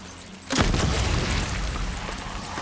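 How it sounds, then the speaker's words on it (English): A single loud grenade launcher blast in Death Stranding erupts suddenly after a quiet start, then leaves a long, dense roar that fades only slightly. "Right in the face with the nade launcher."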